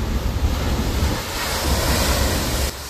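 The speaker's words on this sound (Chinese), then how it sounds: "大浪直接翻越防坡堤，掀起一阵一阵的浪花" Large sea waves, about 4.5 metres high, crash over a breakwater on the Keelung coast as a typhoon approaches, a loud continuous roar of surf and spray mixed with wind buffeting.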